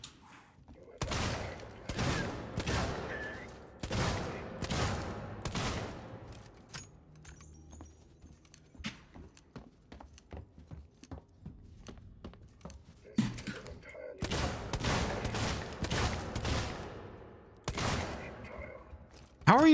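Revolver gunfire in the sci-fi survival horror game Alien Isolation, loud bursts of shots in clusters separated by quieter stretches of footsteps and clicks, with a voice talking at times.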